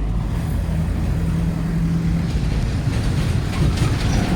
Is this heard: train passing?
yes